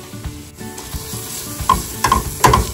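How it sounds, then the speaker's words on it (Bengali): Chili, coriander and cumin powder fry in a pan, a steady soft sizzle with stirring scrapes and a few louder clinks toward the end, no voices. "একটু মশলাটা ভাজা হোক তারপরে দেবো টমেটোটা।"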